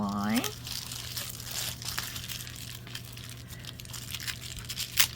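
Paper being folded and creased by hand while making a card wallet, a close crinkling and rustling that runs steadily with a sharper crackle at the end, under a person talking.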